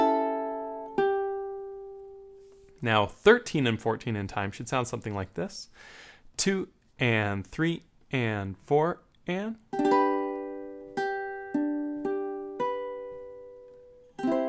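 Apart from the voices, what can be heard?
ukulele playing a song's measures 13 and 14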